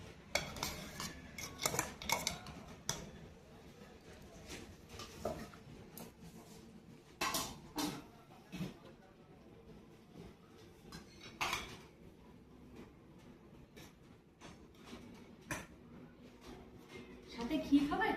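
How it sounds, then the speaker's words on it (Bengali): Hot rice served from a pot for a Bengali boiled-food meal, with utensils clinking and scraping against metal in scattered bursts, close and fairly faint, while a person talks quietly throughout. "এই যে গরম গরম ভাতটা বের করছি"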